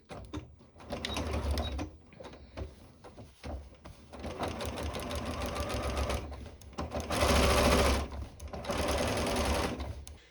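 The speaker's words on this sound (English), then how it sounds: "just sew all the way around and finish at the same point on the other side" Sewing machine stitching a dress lining seam, loud, close, rapid mechanical whirring in several long bursts with short pauses between runs.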